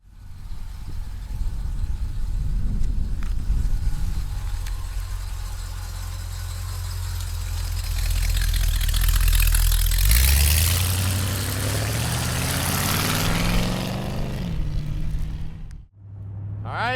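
A 1977 Chevrolet Corvette engine idles steadily and close for about sixteen seconds, its low rumble rising as the revs climb briefly midway before settling, then cutting out near the end.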